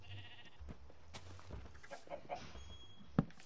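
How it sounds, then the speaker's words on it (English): Minecraft chicken clucking in short scattered calls over a low background hum, fairly faint, ending in one sharper louder click. "Is that a chicken in there?"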